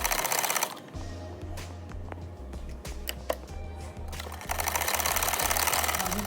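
A sewing machine stitches the sleeve fitting of a kurta, running in a steady mechanical clatter with short pauses and restarts, loud and close.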